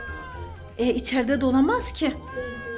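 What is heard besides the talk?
cat meowing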